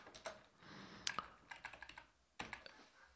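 Clattering keystrokes on a computer keyboard while code is typed, a quiet close-up run of uneven taps in small clusters with short gaps.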